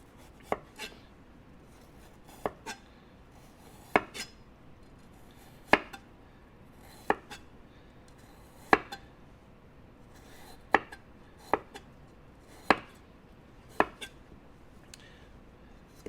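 A knife chops fresh ginger coarsely on a cutting board, giving about a dozen crisp, separate thunks at a slow, uneven pace in a quiet room.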